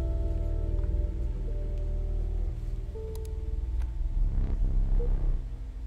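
A cat card in Inscryption purrs steadily in a low, rhythmic rumble that stays constant, with a few faint clicks layered on top.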